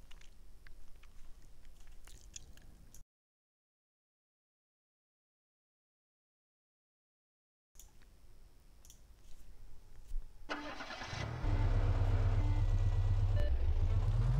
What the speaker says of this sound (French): Oh, pas le même bruit déjà. Elle fait le bruit d'une coccinelle des années 30